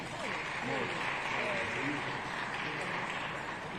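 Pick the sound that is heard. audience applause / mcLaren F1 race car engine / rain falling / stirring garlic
audience applause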